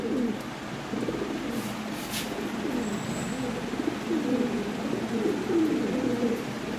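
A pair of red Lahori pigeons coo in repeated low rolling phrases, close and steady, with faint background hiss and a few light clicks, no talking.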